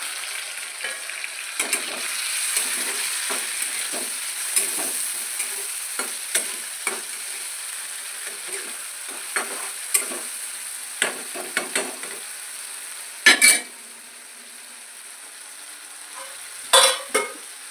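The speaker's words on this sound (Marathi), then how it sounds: "तर हे टमाटर आपल्याला पूर्णपणे तेलात विरघळून द्यायचं आहे" Tomatoes frying in oil in a pan, with a steady sizzle running throughout and repeated light scraping knocks as they are stirred, including a few louder clanks near the end.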